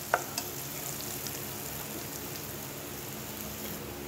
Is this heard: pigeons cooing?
no